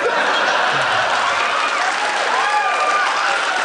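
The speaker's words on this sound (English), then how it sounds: "I think they're just applauding the payoff" Sustained applause from a large theatre audience at a live comedy podcast show at the Sydney Opera House, a dense steady clatter of many hands filling the room, with scattered laughter and a few voices mixed in.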